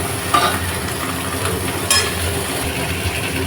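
Onions and okra frying in oil in a pan, a loud, dense continuous sizzle close up with a couple of faint utensil scrapes.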